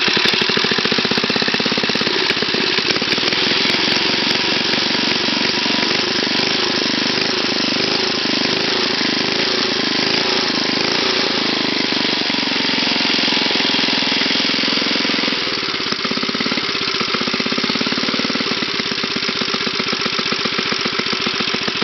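A five-horsepower small engine runs after a cold start in fall, chugging loudly and close with a rapid, steady knocking idle that shifts slightly midway, continuous for over twenty seconds with no talk.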